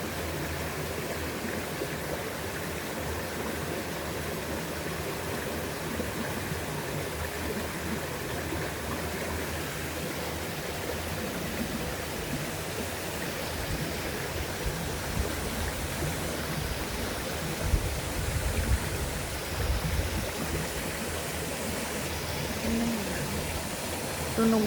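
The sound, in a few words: stream water and crickets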